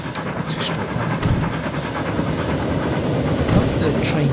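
A train rolling along rails in the Transport Fever 2 video game, a steady rumbling clatter with faint rhythmic clicks, heard alongside a voice talking.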